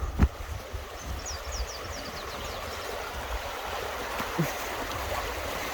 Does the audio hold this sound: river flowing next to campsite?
yes